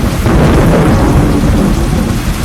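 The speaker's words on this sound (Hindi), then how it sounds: "बादल गरजे" Loud, heavy thunder rumbling continuously through a rainstorm, a deep, rolling roar filling the whole stretch with steady rain noise beneath and no speech.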